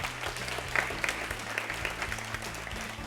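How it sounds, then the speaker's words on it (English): A school quiz audience at the PCRA Quiz claps for a competing team, a short burst of moderately loud scattered applause with some individual claps standing out. "they deserve a round of applause"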